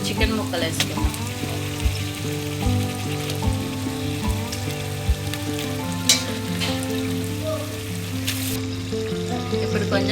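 Chicken pieces hiss and crackle in hot oil with fried chilli powder and paste for a spicy curry, a dense continuous sizzle with occasional soft knocks and a faint tonal hum underneath.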